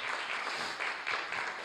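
Church congregation applauds for Jesus, a fairly faint but continuous wash of many hands clapping with small swells.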